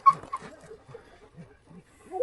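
Male dogs out on a desert trail give soft whimpers and whines, several brief, broken cries in a row with short pauses between them, heard fairly close and not too loud.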